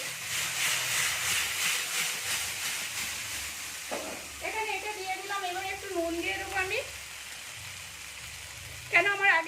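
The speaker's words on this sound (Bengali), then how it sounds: "চিলি ফ্লেক্সটা একটু ভেজে নিচ্ছি" Chili flakes sizzle in a pan of boiled-potato snack with garlic, a steady close hiss that continues throughout while a voice talks over part of it.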